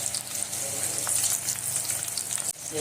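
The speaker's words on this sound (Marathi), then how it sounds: "आता त्यात मी मिरच्या टाकते मिरच्या बी आपल्या फ्राय होतील तळून निघतील चांगलं" Green chillies deep-frying in hot oil for vada pav give a dense, bubbling sizzle that runs loud and constant, ending with a brief clatter.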